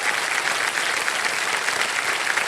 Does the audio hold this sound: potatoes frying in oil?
no